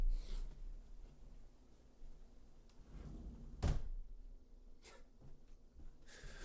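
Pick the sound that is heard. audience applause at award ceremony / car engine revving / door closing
door closing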